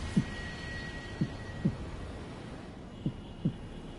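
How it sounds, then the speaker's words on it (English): A slowing heartbeat effect from the video game Nier Replicant: five soft low thumps spaced further and further apart over a quiet ambient hum. "The distance between heartbeats grew longer."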